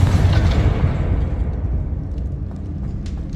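A Confringo spell blast in Hogwarts Legacy bursts loudly at the start, then a deep rumbling boom decays over a few seconds with faint crackling debris afterward.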